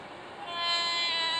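Train in the game Railroad Crossing 3D, a steady tonal drone with layered harmonic whine that swells louder midway, close and continuous with no talk.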